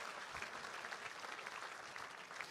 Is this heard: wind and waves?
no